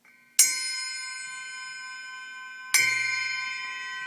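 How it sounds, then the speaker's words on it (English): A small, inexpensive Stag bicycle bell rings twice, each strike a bright metallic ding that rings on with a long, slowly fading sustain; close and clear, with no talking. "Yes, this is a Stag bell."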